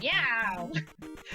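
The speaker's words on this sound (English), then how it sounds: "Yes, that is my cat." A house cat gives a rising and falling meow near the microphone, followed by a few short shouted words from a person.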